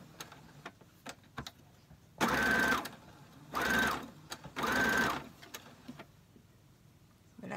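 A sewing machine stitching a dress runs in three short, steady whirring bursts separated by pauses, fairly close and clear, with faint handling clicks in between.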